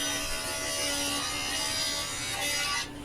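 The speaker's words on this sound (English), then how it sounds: "I have a dedicated dado stack on, and I'm gonna cut some rabbets in here" A table saw fitted with a dado stack cuts rabbets into cabinet carcass panels, giving a steady, loud, high-pitched whine that runs the whole time and then drops away at the end.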